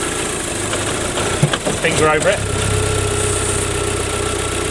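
Audi A3 2.0T engine idling with its dipstick pulled, a steady low throbbing hum broken midway by a brief disturbance, while someone speaks briefly over it.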